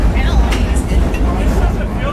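A loud, rough, vibrating rumble comes from the Goliath roller coaster ride at Six Flags Great America, heard close and continuous with faint voices around it.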